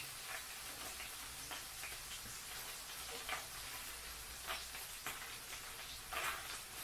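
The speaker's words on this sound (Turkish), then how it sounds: "Hafiften kızartıyorum, çok kızartıyorum." Homemade sucuk sausage frying in a pan, a soft, continuous sizzle and crackle with a few brighter pops, fairly quiet and steady with no talk.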